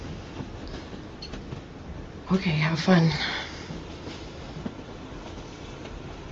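Steady low rumble of a passenger train rolling along its rails, heard as continuous background noise beneath a short exchange of voices.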